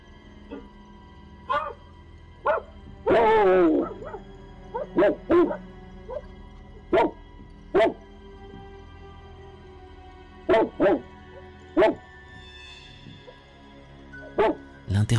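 A dog barks outdoors near buildings and bushes by a parked car while chasing something: sharp single barks spaced irregularly across the clip, with one longer whining, drawn-out bark early on, fairly close and clear.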